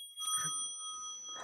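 A small meditation bell is struck once, its clear ringing tones sustaining steadily across the clip, close and fairly quiet, with faint low rustling beneath and a light tap near the end.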